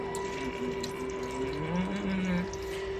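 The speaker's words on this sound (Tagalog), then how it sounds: "Dagdagan natin ng tubig." Mountain spring water pours steadily into a cooking pot with a continuous, splashy trickle. Faint tonal hums sound behind it, and the pour is close and moderately quiet.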